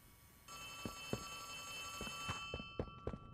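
An old-style telephone bell rings repeatedly in a horror game setting, sharp metallic rings in a steady rhythm over a humming background, with a few soft footsteps between rings.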